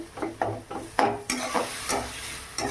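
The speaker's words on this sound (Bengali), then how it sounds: "এটা ভালোভাবে নেড়ে চেড়ে মশলাটা বানিয়ে নেব।" Masala spice paste stirred and frying in a pan for a vegetarian drumstick dish, with a series of close scraping stirs over a steady soft sizzle and no talk.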